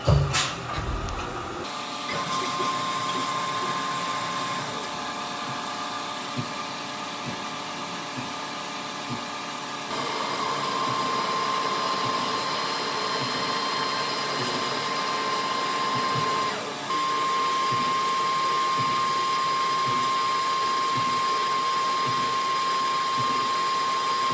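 Continuous mechanical whirring and grinding of a CNC machine drilling holes for an RC monster truck tube chassis, with a thin steady whine; the tone shifts slightly a couple of times, no talking.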